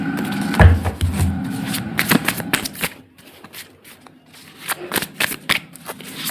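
Tarot cards are shuffled by hand close up, bursts of riffling and flapping card edges in quick irregular bouts, with a quieter pause in the middle before the shuffling resumes.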